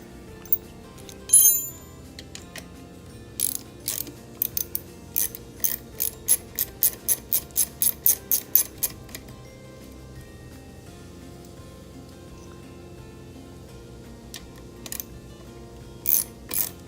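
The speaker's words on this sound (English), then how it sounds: "We're going to use a wrench here. Loosen this one" A wrench ratchets while loosening a 7/16 bolt on a Mercruiser Pre-Alpha outdrive during a water pump replacement, giving a quick run of about a dozen sharp, evenly spaced clicks, with scattered isolated clicks before and after in a quiet workshop.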